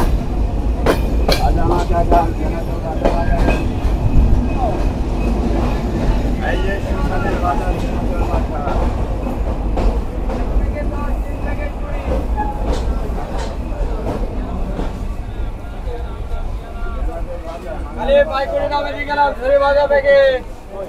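The Kapotaksha Express intercity train rolls into Darshana Halt railway station with a continuous rumble and clatter of carriages, loud and close, under a background babble of people on the platform.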